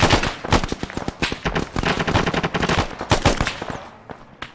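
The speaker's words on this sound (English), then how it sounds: "Arfin, you've got dudes shooting at you." Rapid bursts of automatic gunfire in the military shooter Arma 3, sharp cracks repeating in dense volleys close by, with some shots trailing off more distantly and no talking.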